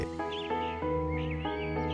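A cartoon crow caws repeatedly in a jungle scene, several harsh, clear calls in a loose rhythm, close and distinct with no talk.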